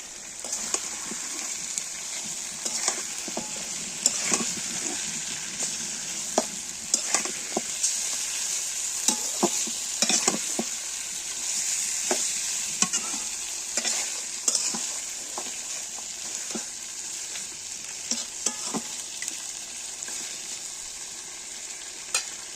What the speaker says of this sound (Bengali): এই যে মাংসটা এখন সুন্দর করে কষে নিচ্ছি সব মশলা দিয়ে